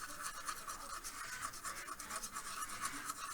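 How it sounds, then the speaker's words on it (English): Hard, dry bristle brush scraping dust pigment off the surface of a 1/35 scale Hobby Boss Leopard 2A6M CAN model tank, a close, steady, gritty scratching in quick back-and-forth strokes throughout. "you kind of scrape it away with the brush"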